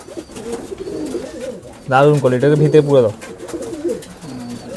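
Pure local desi pigeons from Uttar Pradesh coo in a loft, their soft murmuring faint beneath someone talking close by for most of the clip.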